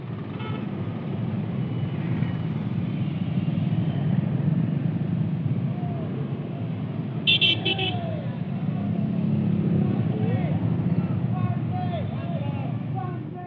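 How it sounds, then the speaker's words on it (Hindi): Motorcycles in a large bike rally at a district headquarters in Chhindwara give a continuous, fairly loud engine drone throughout, with voices mixed in and a few brief higher-pitched calls or chirps over the rumble. "जिला मुख्यालय पर इस भव्य बाइक रैली का आयोजन किया गया"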